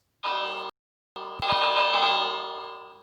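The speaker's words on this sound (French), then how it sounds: "J'aime bien activer cette cloche." A church bell in a medieval video game rings twice, a short clang, a brief pause, then a louder sustained toll with a long ringing decay, alone with no talk.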